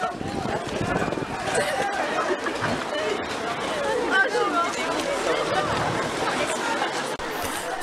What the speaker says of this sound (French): Le cortège, bien bruyant, s'entendait de très loin.